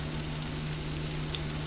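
Whole wheat flour pancakes fry in an iron skillet with a steady, even sizzle and soft crackle, heard alone at a moderate level.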